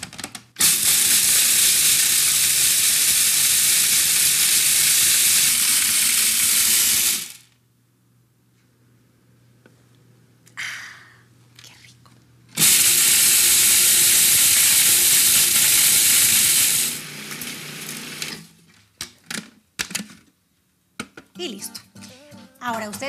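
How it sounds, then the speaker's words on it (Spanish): Whole spices for garam masala toasting and sizzling in a hot pan, with two long bursts of loud, steady frying hiss separated by a quieter gap with faint stirring and clinks. "Precisamente por eso se tuestan un poco, para que continúen soltando ese olorcito."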